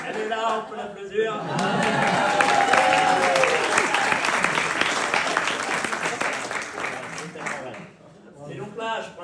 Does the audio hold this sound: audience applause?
yes